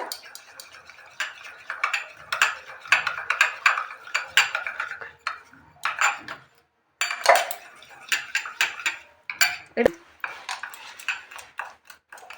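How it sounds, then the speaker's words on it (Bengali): Batter of milk and flour for a bottle-gourd biscuit cake is beaten briskly in a bowl, the utensil scraping and clinking against the sides in rapid bursts, close and fairly loud, with short pauses and one sharp knock. "দুই চামচ ময়দা দেব চার চামচে দুই চামচ ময়দা এটা ভালো করে ফেটাতে হবে"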